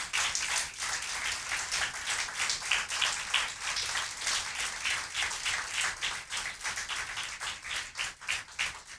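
A church congregation at a Spanish-language service breaks into applause: dense, steady clapping from many hands fills the room throughout, with no voices standing out.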